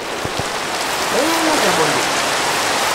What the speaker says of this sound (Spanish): Me voy adentro de mi casa porque está lloviendo.